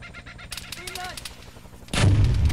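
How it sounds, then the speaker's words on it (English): A ZSU anti-aircraft gun opens fire in the Arma 3 Vietnam-era game: scattered sharp reports, then a loud, sustained burst of heavy gunfire near the end. "So that ZSU is opening fire."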